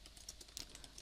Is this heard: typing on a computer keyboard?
yes